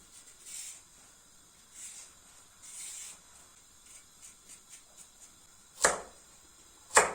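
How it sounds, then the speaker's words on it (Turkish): A peeler scraping down a carrot for bone broth in soft, repeated strokes with short pauses between them, close and quiet, with two sharper, louder knocks near the end. "Bunun için ilk başta havucumuzu soyuyoruz."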